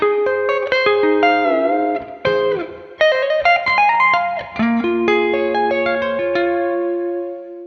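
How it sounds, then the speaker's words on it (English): Electric guitar runs through the Royal Road chord progression in a math rock and Midwest emo style, bright chords and ringing arpeggiated notes under distortion, chorus and reverb, loud and continuous with no talking. "It's a commonly used progression in J-pop and J-rock referred to as the Royal Road progression."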